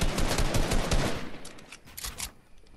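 Rapid bursts of gunfire in the video game Fortnite crackle close and loud in quick clusters, then thin out into scattered, quieter shots.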